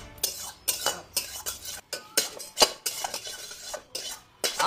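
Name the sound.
pots and utensils clattering loudly while cooking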